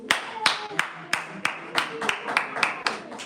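A church congregation claps in a steady rhythm, about ten sharp claps spaced evenly, with a voice faintly underneath.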